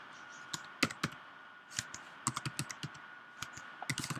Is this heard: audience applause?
no